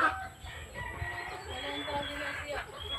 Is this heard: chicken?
yes